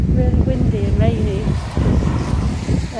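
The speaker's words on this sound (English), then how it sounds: "the weather is horrendous, really windy and rainy." Strong wind buffets the microphone during an outdoor recovery run on a stormy day, making a heavy, steady low rumble with gusty swells, and a voice is faintly audible underneath.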